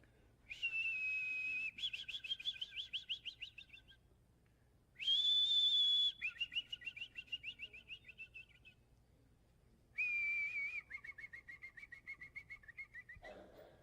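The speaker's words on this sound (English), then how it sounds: "it has a very sweet whistle song" A Bachman's sparrow sings three phrases, each a long clear whistled note followed by a rapid trill, separated by short pauses, crisp and fairly close.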